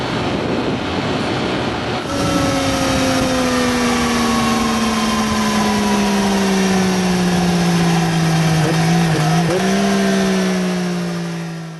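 A 2013 Triumph Daytona 675R motorcycle engine in the Nevada desert, starting with a rough burble before settling into a loud, sustained high drone whose pitch falls slowly, dips briefly, then recovers, close and alone.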